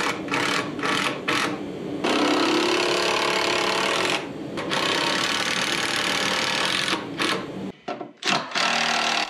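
A Milwaukee M18 power tool whirs in loud sustained runs while working screws in the boards of a wooden hay feeder for pigs, broken by a few short pauses and a brief stop near the end.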